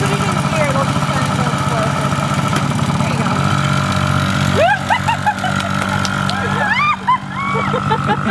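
Motorcycle engine idling, then revving and pulling away in gear, with rising pitch sweeps as it accelerates and shifts; a person talks over the engine throughout.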